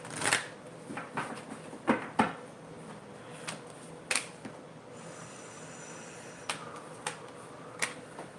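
Playing cards shuffled in short bursts, a series of quick crisp riffles and snaps spaced a second or two apart, close and fairly quiet against a faint room background.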